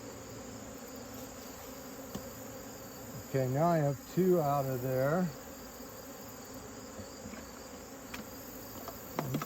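Many bees buzz in a constant, steady hum around a hive, while a person speaks briefly over it.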